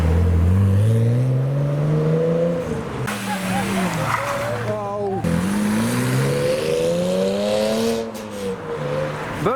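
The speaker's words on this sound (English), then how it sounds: "And now we've got the R34 four-door leaving the leads." A modified Nissan Skyline R34 four-door pulls away from a car meet, its engine revving up and down loudly and close in several rising sweeps, with a brief change in tone midway.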